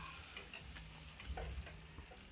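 Spinach thalipeeth fries on a hot tawa with a soft, continuous sizzle and occasional light ticks and scraping, fairly quiet and close, with no voices.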